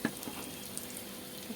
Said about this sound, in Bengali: পটলগুলোকে ভালো করে ভেজে নিলাম